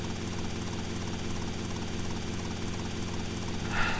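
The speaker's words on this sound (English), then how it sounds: "this helicopter makes the way back even with 5 wanted stars" A helicopter in GTA: Vice City drones with a constant rotor thrum and engine whine, loud and steady the whole way, with a brief brighter burst near the end.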